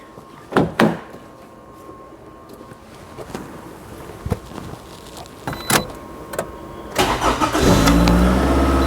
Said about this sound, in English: if we go in the vehicle and start the engine is gonna start